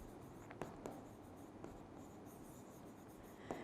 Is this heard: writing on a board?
yes